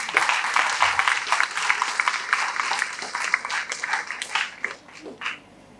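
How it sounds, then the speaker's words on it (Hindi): Students in an audience at a motivational talk clap together loudly, a dense sustained applause that gradually thins out and fades near the end. "आप सबसे पहले अपने आप के लिए एक जरूर जोरदार ताली बजाएं।"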